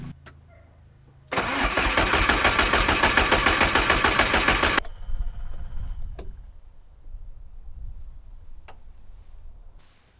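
A diesel engine fitted with an 11mm injection pump cranks over steadily for about three and a half seconds with a rapid, even chugging rhythm, then stops, leaving faint clicks and low hum.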